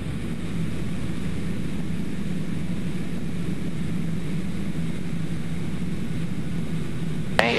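A small airplane's engine during a stall-spin training flight as power is brought back, a loud steady droning hum filling the cabin with no clear drop in pitch, no talking, ending in a short click.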